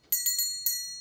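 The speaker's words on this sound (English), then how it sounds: "we're using a bell" A small hand bell rung four times in a quiet indoor space, each bright, ringing strike decaying before the next, with no talking.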